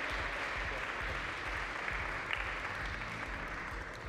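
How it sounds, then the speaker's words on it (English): A crowd applauding steadily, a dense wash of clapping that holds at an even level throughout without any voices on top. "Clap it up for Ken, okay?"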